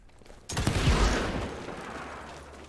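Gunfire in the video game Evil West erupts as a sudden loud blast with a rumbling, decaying tail that fades over the next couple of seconds.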